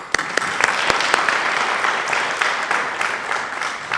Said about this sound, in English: Yes, I have one more round of applause for Sue.